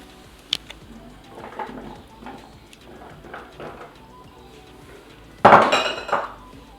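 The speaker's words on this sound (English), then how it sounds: "now we have put all our vegetables on the tray" Vegetables and potatoes set onto a metal roasting tray, a series of light taps and clinks followed by a sudden loud metallic clatter near the end, with no speech.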